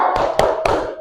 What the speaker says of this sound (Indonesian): Tapi ice breakingnya dengan tepuk semangat aja ya.